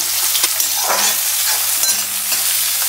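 Onions frying in mustard oil in a home kitchen pan, a steady dense sizzle throughout with occasional stirring scrapes, close and fairly loud.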